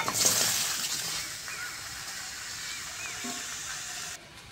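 Chopped tomatoes dropped into a hot kadai over a lit stove for homemade tomato sauce, a loud initial hiss and splatter that settles into a steady sizzle before cutting off abruptly.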